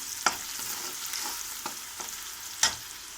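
Curry leaves sizzle in hot oil with turmeric in the pan, a soft close hiss broken by a few sharp spluttering pops and stirring clicks.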